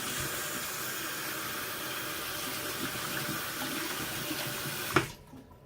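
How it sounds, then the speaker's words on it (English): Makeup brushes rinsed under a running tap, a steady hiss of water splashing into the sink that continues evenly and then stops abruptly with a brief knock near the end. "Take these last two brushes, rinse all the soap off."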